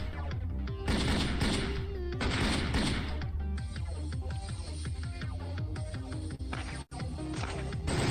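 A cartoon gun box machine fires a fast string of popping gunshots over a steady musical backing, loud and continuous throughout.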